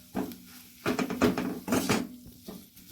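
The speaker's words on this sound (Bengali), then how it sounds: "এবার এটাকে আমি ভালো করে নেড়ে নেব" A pot of food is stirred with a utensil, giving a few bursts of scraping and clattering against the metal, separated by short pauses and with no talk.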